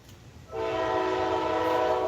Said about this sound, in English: Y'all know this train going past.